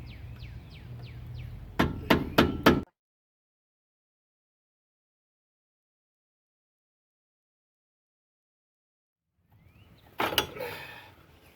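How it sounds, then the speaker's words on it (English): On a 1994 Ford Ranger brake job, a rubber mallet strikes the brake caliper clips: a quick run of sharp taps, a long silence, then a few more knocks and some clatter, all close by. "I take my rubber mallet hammer."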